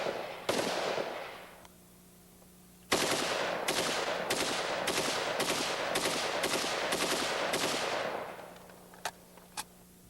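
A Stoner 63 5.56 mm machine gun fires fully automatic from an open bolt: one short burst, a pause, then a long sustained string of rapid sharp reports, followed by two isolated shots, loud and close.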